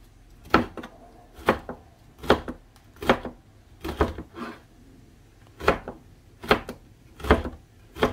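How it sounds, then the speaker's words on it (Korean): A knife chops quartered red chili peppers on a cutting board for kimchi made with young radish, about ten crisp, evenly spaced strikes, close and clear with no talk. "고추를 4등분 해가지고 이렇게 썰면은 더 쉽게 썰 수 있네요"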